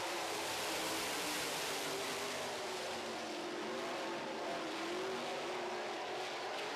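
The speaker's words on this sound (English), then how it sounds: "thought we'd start it out with the UNOH All-Star Circuit of Champions Sprint Cars" UNOH All-Star Circuit of Champions sprint cars roaring together at the green flag start, a loud, dense, continuous engine howl with no pauses.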